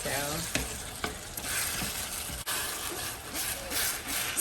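Ground meat sizzles and fries in a pan for samosa filling while a utensil stirs and breaks it apart, steady crackle with scraping knocks at intervals, near and fairly quiet.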